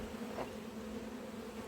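Honey bees buzz at an opened hive during an inspection and split, a steady, close, continuous hum that fills the whole stretch without any talk.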